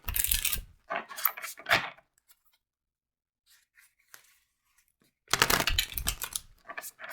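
Oracle cards are shuffled by hand in two quiet bursts of papery riffling, separated by a silent gap of a few seconds.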